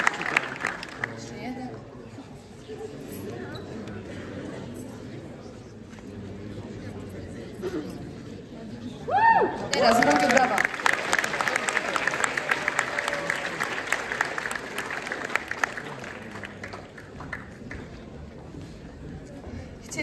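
Audience applause at the closing ceremony of a theatre festival, with a presenter talking over a quieter stretch before a louder burst of sustained clapping and crowd noise rises and continues to the end.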